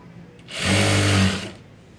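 A sewing machine stitches self piping on a blouse in one short, loud, steady whirring run that starts and stops abruptly, with no talk.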